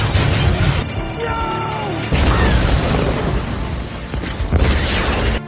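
Loud cinematic sci-fi battle effects of an alien ship firing repeated shots and destroying a vessel, with booming blasts, crashes and mechanical bursts in sharp abrupt cuts, no speech.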